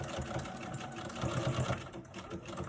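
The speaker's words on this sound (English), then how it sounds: "back stitching over this fold" A sewing machine back stitching along the fold of a cloth face mask with ties, a steady close whirring hum with a fast mechanical needle rhythm, running without pause.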